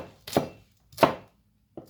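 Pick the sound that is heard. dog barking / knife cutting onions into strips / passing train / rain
knife cutting onions into strips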